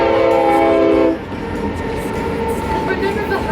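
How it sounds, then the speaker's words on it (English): A long freight train rolls past near the Yellowstone route, its horn sounding briefly before the steady rumble and clatter of railcars carries on, loud and close. "Look at all these train cars."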